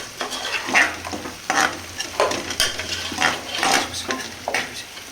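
A spoon stirs browned onions and turmeric in a hot pan for a chicken gizzard fry, giving repeated scraping strokes about every half second over a low sizzle, close and fairly loud.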